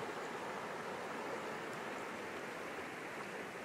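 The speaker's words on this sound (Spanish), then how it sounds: "Al pie de la corriente del río." Broad, steady rushing of a swollen river current after heavy rains, a continuous wash of water noise heard close and unbroken, with no voices over it.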